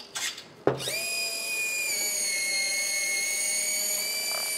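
A servo-driven ACME-thread screw drive in a Bruder Mack toy truck, powered by a 6-volt lead-acid battery, whirs into a steady high-pitched motor whine after a brief click and start, running continuously and close.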